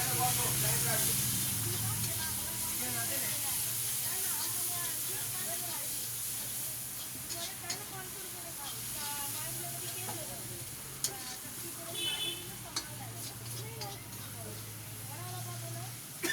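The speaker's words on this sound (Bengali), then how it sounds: "হ্যাঁ কষাচ্ছে।" Chicken sautés in a pan at home with a continuous close sizzling hiss and occasional stirring scrapes, while people talk over it.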